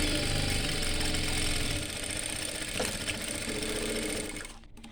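A sewing machine stitches a petticoat hem, its fast even motor chatter running continuously at close range, easing slightly after a couple of seconds before stopping at the end.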